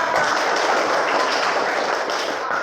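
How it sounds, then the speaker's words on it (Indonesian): A classroom of students applauds together, a dense, steady patter of many hands clapping close by at even loudness throughout. "Tepuk tangan."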